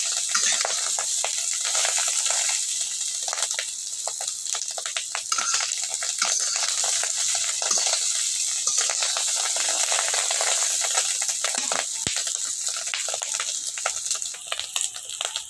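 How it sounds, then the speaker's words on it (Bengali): Beef lung fries crisp in hot oil in a pan, giving a steady, close, hissing sizzle that continues without a break. "ফেবজাটা কিন্তু কড়া বেজে ভাজা হয়ে গেছে"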